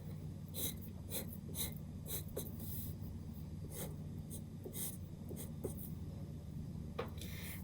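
A pen or pencil draws lines on paper in short, repeated scratchy strokes, close and quiet over a low steady background hum, with no one talking.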